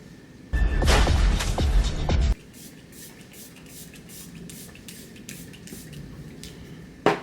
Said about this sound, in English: Now I'm about to spray that onto my foundation.